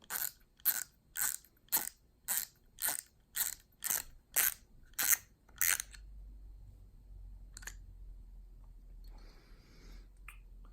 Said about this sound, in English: Let me take the spool off and I'll show you.